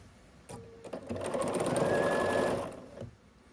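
Sewing machine stitches mini quilt pieces together with one close, steady mechanical run that rises, holds for about two seconds, then stops.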